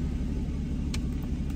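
A Porsche Boxster GTS engine runs close by with a deep, steady rumble, even and unbroken through a brief moment.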